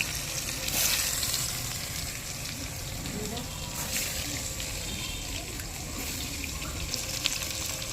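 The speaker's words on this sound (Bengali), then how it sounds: "এখন মা আলু ভেজে নিচ্ছে" Potatoes seasoned with salt and turmeric fry in a wok in a village kitchen, producing a steady, fairly loud hissing sizzle throughout with little variation.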